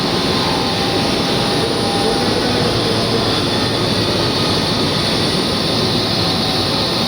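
A water pump motor runs and vibrates during installation, giving a loud, steady, unbroken mechanical drone with a constant hum that never changes over the whole stretch.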